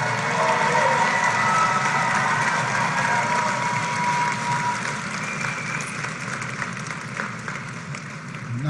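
An audience applauds a motivational speaker's oldest son and daughter as they stand, sustained clapping that holds steady and slowly fades, with a few faint voices and crowd murmur mixed in.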